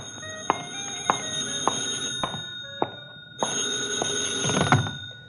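An old-fashioned bell telephone rings in a radio drama scene set near a phone booth, bursting into two long ringing stretches with a brief gap between them, loud and close, accompanied by sharp clicking knocks.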